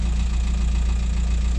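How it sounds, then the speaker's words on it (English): The engine of a VW T5 van idles steadily and loudly up close after a jump start, with a rhythmic low throb and no speech. "try and start the van, which is started."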